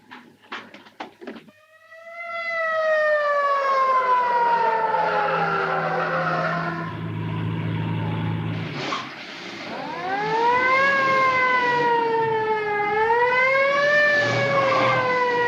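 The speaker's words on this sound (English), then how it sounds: "Follow that ambulance." A wailing ambulance siren from a 1937 crime film swoops up and down in long, loud glides after a few brief knocks at the start, dipping once midway before rising again.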